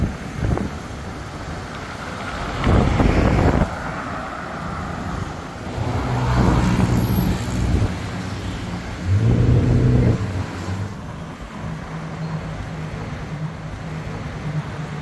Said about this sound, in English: So these are the 10 baht buses that you see running through Thong Lor.